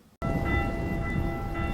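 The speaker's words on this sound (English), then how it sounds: "Why are the bells tolling?" Bells tolling in a House of the Dragon episode: after a brief quiet moment, loud sustained ringing tones start abruptly and hold over a deep, rumbling layer.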